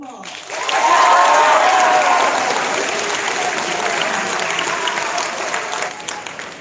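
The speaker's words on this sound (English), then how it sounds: "You all just give yourselves a big round of applause." A school assembly audience breaks into loud, dense applause that swells quickly and then holds as a continuous roar of clapping, with a voice briefly audible near the start.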